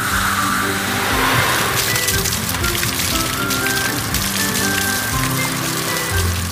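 Cartoon fire truck spraying water onto a fire, a loud, steady hiss and patter like heavy rain that continues unbroken for several seconds over a low rumble.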